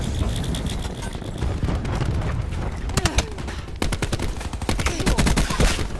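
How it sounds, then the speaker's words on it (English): Cluster grenade going off in the Black Ops 4 shooter game, a rapid burst of sharp cracking blasts and gunfire-like pops in a dense, loud battle mix with a low rumble underneath. "Cluster grenade going out."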